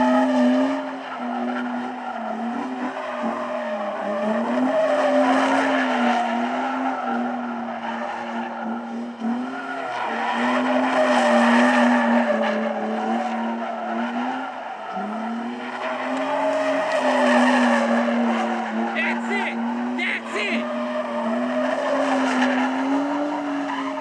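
A car drifts around a barrel on a test track, its engine droning steadily while the tires squeal and skid in long sustained waves that swell and fade over about twenty-four seconds, loud and close, with no voices.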